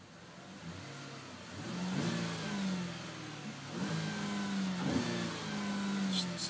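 A 2012 Buick LaCrosse Touring engine turns over and catches, then revs up in a few rising bursts before settling, heard fairly close with no talking.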